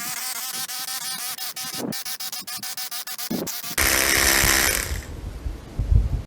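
A budget cordless Apro rotary hammer drills into brick with a 16 mm bit, hammering in rapid, loud, evenly pulsed bursts, then building to a harsher, denser grinding roar before winding down.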